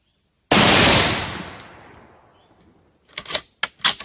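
A single loud rifle shot from a Mossberg MVP rifle, close and sharp with a long decaying echo, followed by a few quieter clicks and clacks of handling.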